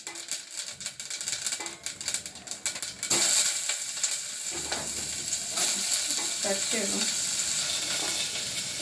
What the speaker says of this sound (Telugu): నూనె హీట్ ఎక్కాక ఆవాలు వేసేస్తాము. ఆవాలు వేసేస్తాం బాగా, ఇలా సౌండ్ వచ్చాక